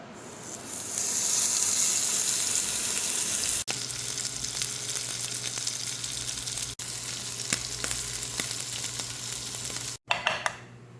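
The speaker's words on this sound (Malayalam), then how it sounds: "ഇനി നമ്മളെ മീൻ പൊരിക്കണം." Masala-marinated fish fries in a pan with a loud, continuous sizzling hiss that holds steady, broken by a few abrupt cuts, with a brief clatter near the end and no talking.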